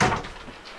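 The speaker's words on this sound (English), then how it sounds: "And then when we close the door here," A closet door closes inside a 2023 DRV Luxury Suites Houston fifth wheel RV: one soft, close thud that quickly fades to quiet room tone.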